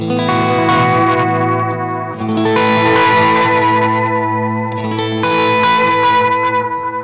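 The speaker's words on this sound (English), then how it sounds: "But there's enough of the echo to go around." Sustained electric guitar chords played through a Way Huge delay pedal, each strum trailing repeating echoes that blend into a thick, washy tone, loud and continuous.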